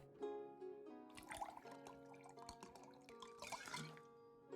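Liquid poured into a glass in the video game Card Shark, a short dripping, trickling pour heard over layered background music with sustained tones.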